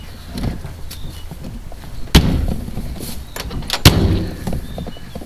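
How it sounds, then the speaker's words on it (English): Doors on a VW Beetle body freshly set onto a new floor pan, two sharp slams a couple of seconds apart, each followed by rattling and handling noise, close by with no talking. "Now let's see how the doors work."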